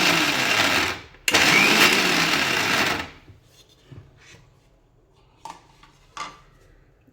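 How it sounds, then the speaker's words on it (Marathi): Mixer grinder pulsing garlic and ginger into a paste, two loud whirring bursts with a brief stop between them, then quiet clinks and shuffling as the jar settles. "अगोदर चालू बंद करून मिक्सरमध्ये ते लसूण अद्रक आपण बारीक करून घेणार आहोत"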